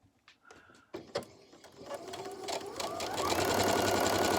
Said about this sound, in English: So take you back to the sewing machine.